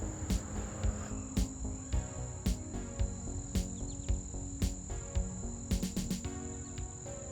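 Loud, continuous insect buzz of cicadas outdoors, a high steady drone with regular pulsing bursts repeating every second or so.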